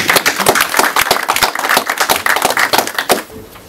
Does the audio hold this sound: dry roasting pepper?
no